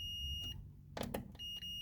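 A digital multimeter in continuity test mode beeps during electrical troubleshooting on a 1978 Gottlieb Close Encounters of the Third Kind pinball machine: two steady, high electronic tones separated by a short gap with faint clicks.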